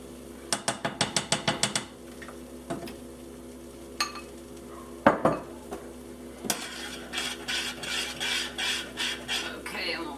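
Vegan quiche egg-substitute mixture of flour and water thickening in a pot, stirred against the metal with a burst of rapid clinking strokes, then scattered scrapes and a steady rhythmic stirring rasp close by, with no talk.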